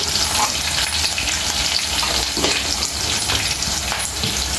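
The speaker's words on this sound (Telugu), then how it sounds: "అల్లమెల్లి పేస్ట్ వేస్తున్నాను" Ginger-garlic paste fries loudly in hot oil in a pan for a taro root curry, a dense continuous sizzle up close with faint stirring scrapes underneath.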